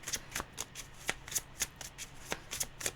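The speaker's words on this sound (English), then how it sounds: "I don't think that deck likes the overhand shuffle." A tarot card deck is shuffled overhand, a quick run of crisp riffling flicks and taps repeating about every quarter second, close and clear with no talk.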